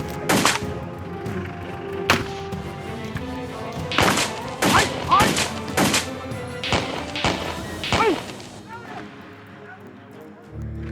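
Bursts of gunfire crack out in irregular clusters, several loud shots close together with pauses between, fading toward the end.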